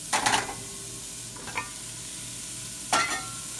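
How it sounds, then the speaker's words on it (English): Carrots, celery and onions are tossed into a hot pot for homemade beef vegetable soup, with stirring scrapes and clatter at the start and end over a steady soft sizzle, no talking. "we're going to get the carrots, the celery, and the onions, and we're going to put them all in there"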